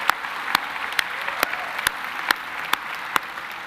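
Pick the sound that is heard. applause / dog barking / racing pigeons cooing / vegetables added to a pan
applause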